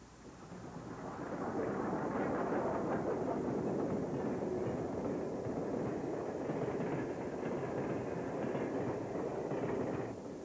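A Union Pacific steam train runs westbound on the new line toward the water tank and junction at Dale Creek, Wyoming, a low, sustained rumble that swells in and holds steady with faint rail clatter.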